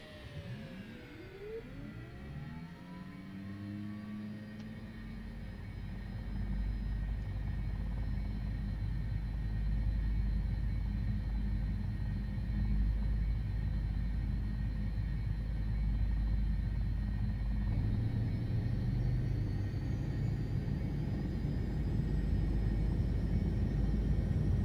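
The engine of a Piaggio P180 turboprop starts up in the video game Microsoft Flight Simulator 2024: a rising whine spools up, then settles into a steady, loud turbine roar and rumble that continues throughout, with no talking.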